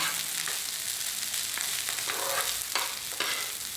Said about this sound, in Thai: แล้วข้าวเวลาผัดนี้ข้าวจะต้องกระเด็นค่ะ